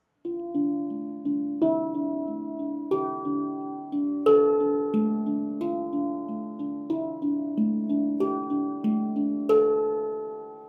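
A gentle melody of resonant metal notes struck in an even rhythm, each ringing out and blending into the next, played alone.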